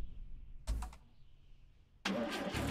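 A car engine starts in the driving game The Long Drive: a short crank of the starter, a pause, then the engine catches and runs steadily and loudly. No talking.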